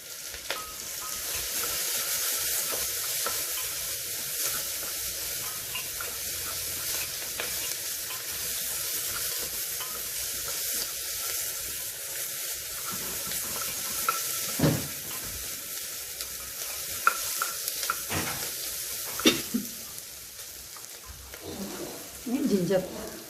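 Onions sauté in a pan for a Kerala home-cooking dish, giving a steady close sizzle with occasional stirring scrapes and clatters that grow toward the end.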